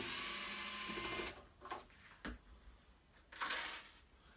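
A screwdriver backs screws out of the rear panel of an ozone generator (MP Series / A7K). A buzzing whir at the start gives way to quiet scattered clicks and rattles.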